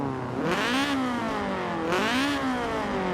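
Honda FN2 Civic Type R engine in Forza Horizon 5 revving hard twice, each rise climbing in pitch then dropping back, loud and close with a steady engine drone between bursts.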